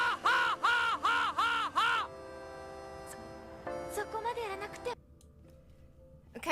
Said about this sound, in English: Crow sound effects.